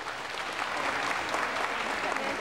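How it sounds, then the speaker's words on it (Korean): A 1983 Korean television studio audience applauds a family reunion on a broadcast program, steady dense clapping throughout. "여러분 축하의 박수를 부탁하겠습니다"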